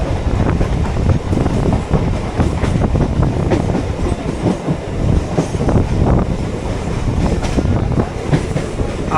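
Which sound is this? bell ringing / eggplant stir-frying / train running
train running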